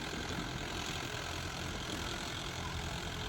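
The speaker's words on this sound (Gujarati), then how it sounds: "ચલો ટ્રેક્ટર અત્યારે ચાલુ છે." A tractor engine idles with a steady, low, continuous rumble, faint and unchanging throughout, with no voices.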